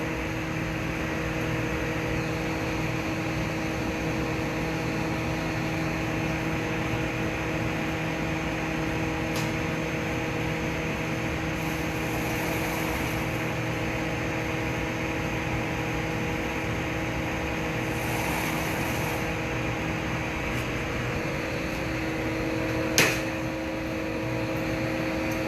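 A glassblowing furnace roars in a steady, loud, unbroken rush while the glass lip is heated at the glory hole, with a faint mechanical hum beneath and one brief sharp click near the end.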